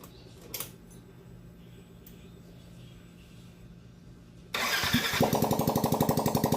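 A Yamaha NMAX 155 scooter with a newly replaced block set cranks briefly and then starts. The engine catches and settles into a loud, close, rapidly pulsing idle after a stretch of quiet workshop background.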